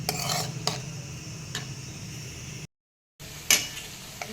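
Carrots stir-fried in a pan on a low flame for instant pickle, a soft continuous sizzle punctuated by a few sharp clinks of a spoon against the pan, quiet and close, broken by a brief gap of silence.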